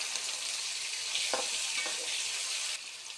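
Mustard seeds, peanuts, garlic paste and chopped onion fry in hot oil for vermicelli upma, a steady close sizzle with a couple of brief stirring scrapes, the hiss dropping slightly near the end; no one speaks.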